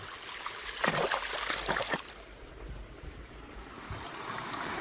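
Water rushes and splashes through a cattle trough pipeline and float valve as it is flushed clean, with a louder gushing burst early on that settles into a steady, noisy flow.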